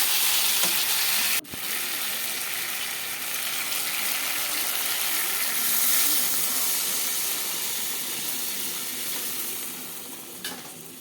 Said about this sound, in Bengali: দেখো এবার আমি জল দিয়ে দিচ্ছি এর মধ্যে।